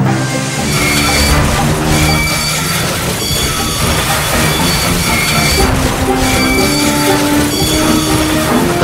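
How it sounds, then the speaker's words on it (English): Steam locomotives labour along rails in a railway yard, a loud continuous rumble of train wagons with rhythmic clatter and chuffing throughout, close and steady with no voices. "Donald and Douglas, puffing hard, managed to haul Thomas back to the yard"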